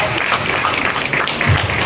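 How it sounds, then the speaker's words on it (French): Applause from an audience at a charity evening, a short burst of scattered clapping and crowd noise with voices mixed in. "On applaudit tout le monde."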